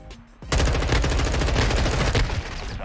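Rapid automatic gunfire in the Modern Warfare 2 beta video game: after a brief quiet moment, a loud, dense burst of continuous shots runs nearly three seconds without pause.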